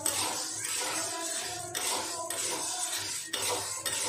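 Chickpeas being stirred with a metal spoon in a hot kadhai after the stove is switched off, giving steady scraping and light clinking against the pan, close and continuous with a few sharper knocks.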